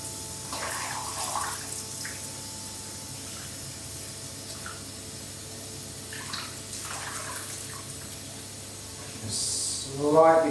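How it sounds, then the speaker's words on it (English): Water rinses steadily over a thin metal lithography plate as a soft, continuous hiss, with faint handling sounds and a louder splash near the end. "then we're just going to rinse over the plate"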